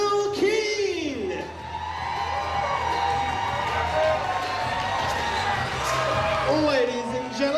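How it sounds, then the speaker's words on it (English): Wedding guests cheer and whoop for the Bro of Honor, a loud, sustained crowd roar with rising shouts over applause, and a voice speaking through it. "keep that round of applause going for our Matron of Honor, Amy Delargray"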